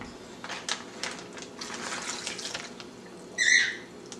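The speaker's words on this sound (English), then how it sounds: "into that I will pour the large bowl of marinade" Teriyaki marinade for beef jerky poured from a large bowl, a soft continuous liquid trickle ending in a brief splashy gush.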